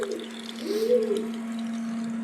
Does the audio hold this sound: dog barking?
no